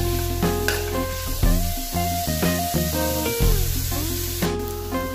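Vegetables for kothu chapathi sizzle and hiss as they fry in a pan, a steady crackle throughout, partly under loud background music.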